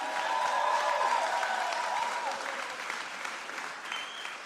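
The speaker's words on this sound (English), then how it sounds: "Let's give them both another clap" A church audience claps for two young preachers, a dense, steady round of applause that fills the room and tapers slightly toward the end.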